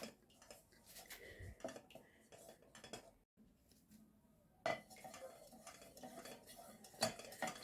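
A spoon scrapes and clinks against a container while a homemade wax mixture for petroleum-jelly-style ointment is stirred, giving quiet irregular metallic taps and scraping strokes, with a brief pause midway before sharper clinks resume.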